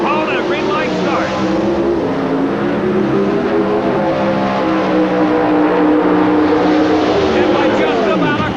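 Drag race cars launch off the starting line at the 1987 NHRA Chief Auto Parts Nationals, a loud sustained engine roar filling the whole stretch with a rising, sweeping pitch, mixed with a race announcer's commentary.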